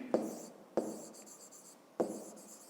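A pen scratches out handwritten math working in three separate strokes, each a sharp tap followed by a short rasping scribble, close and fairly quiet with no talk.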